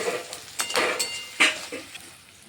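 Mutton cooks in a pan with soft sizzling behind it, while a utensil stirs and scrapes against the metal in several short, uneven bursts, close by and fairly quiet.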